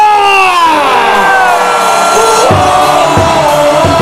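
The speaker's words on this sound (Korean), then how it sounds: "자 타이거즈의 목소리로 함성 5초간 발사" Tigers baseball fans at Sajik Stadium unleash a loud, sustained roar during a Kia vs Lotte game, a dense wall of crowd voices with rising whoops and swelling cheers filling the stands.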